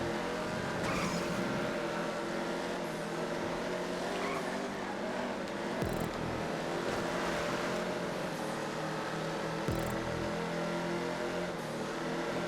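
Upgraded Dominator GTX sports cars racing around a track in GTA 5, engines droning loud and steady throughout with a few sharp transients, no talking.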